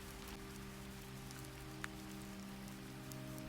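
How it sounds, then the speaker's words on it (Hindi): Steady rain falls, a soft, even patter of drops on surfaces continuing without break at low volume, with a faint constant hum underneath and no voices. "लगता है आज भी बारिश रुकने वाली नहीं है।"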